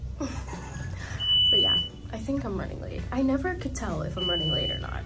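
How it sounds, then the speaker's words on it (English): An elevator gives two high, steady electronic beep tones, each lasting under a second, over continuous nearby talking. "that's the sound of the elevator"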